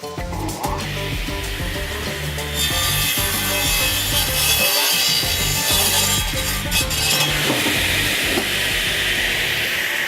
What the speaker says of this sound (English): I got my radial arm saw here. It's nice and wide. I can cut them all at one time.